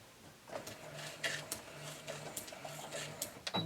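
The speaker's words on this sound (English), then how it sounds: "when I am sewing, I use I go a couple forward," A sewing machine stitching fabric forward, running in short, rhythmic mechanical bursts with a steady whirring hum between needle strokes, close by and moderately loud.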